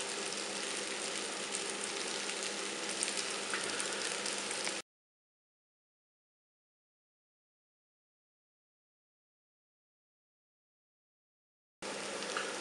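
Pad thai noodles and vegetables stir-fry in a pan with a steady, close hiss and sizzle that cuts out abruptly, leaves a long silence, then returns briefly.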